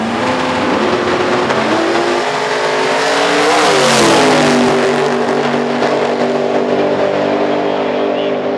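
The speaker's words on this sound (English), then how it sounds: "nice burnout to boot" A quarter-mile drag race car, a Pinto, does a burnout at the strip, its engine roaring loudly and rising in pitch with screeching tire noise before settling back, while an announcer's voice is faintly present underneath.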